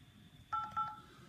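Mojo dialer software plays telephone DTMF dialing tones: two short, clean keypad beeps in quick succession, fairly soft over a quiet background hum.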